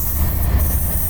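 Freight train rolling along the tracks near a bridge, a close, loud rumble with squealing wheels, heard alone without voices.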